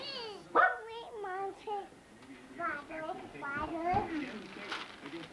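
A dog gives short yips and whiny barks close by, mixed with people talking over it in a cluttered, busy room.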